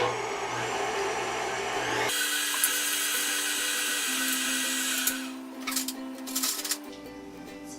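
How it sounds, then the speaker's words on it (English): Electric hand mixer whirring through lemon cupcake batter, a steady close drone that shifts pitch as the speed changes and turns uneven and bumpy toward the end. "so now we're going to mix those in"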